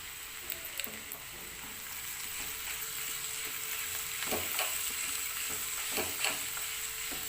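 Bitter gourd (kakarakaya) fries in a pan with salt and turmeric, giving a faint, steady sizzle with occasional light scrapes and taps of a stirring spoon.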